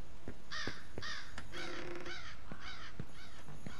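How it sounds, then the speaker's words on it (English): Several crows caw in the video game Remothered: Broken Porcelain, about six or seven harsh, loud calls in an uneven sequence, with faint clicks between them. "Hey, keep it quiet, you birds."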